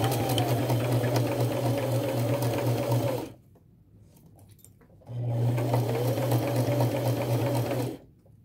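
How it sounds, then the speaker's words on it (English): Sewing machine running a small straight stitch on fabric, a close, steady mechanical whir in two runs of about three seconds with a short pause between. "Now I'm going to sew this together, and I will use a 1/4 inch seam allowance, a fairly small straight stitch"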